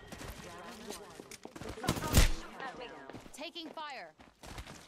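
Gunfire bursts in the battle game Apex Legends, a loud cluster of shots peaking mid-clip amid busy game sounds, with excited players talking over the action throughout.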